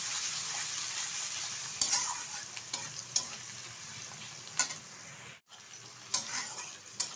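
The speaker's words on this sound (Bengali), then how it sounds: "এখন দিয়ে দেবো কুচিয়ে রাখা কিছুটা পেঁয়াজ আর একটা কুচিয়ে রাখা টমেটো।" Chopped onion and tomato frying in hot oil as they are stirred in, with a steady sizzle and scattered scraping clicks of the spoon against the pan.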